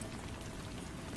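Rain falls steadily in a dense, even patter and hiss, close and continuous without pauses.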